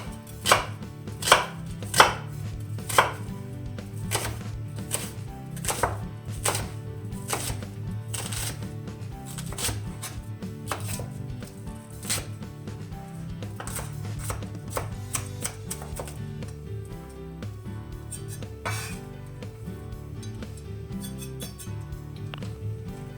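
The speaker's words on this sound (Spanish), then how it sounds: "Picamos la cebolleta." A knife chops spring onion on a board in rapid, crisp, close strikes, loudest and most regular at the start, then a looser run of cuts continuing throughout.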